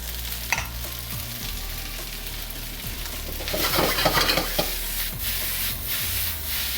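Rice frying in a hot pan while a utensil breaks it up and stirs it, a steady sizzle with scraping and clinks that grow busier midway, no talking.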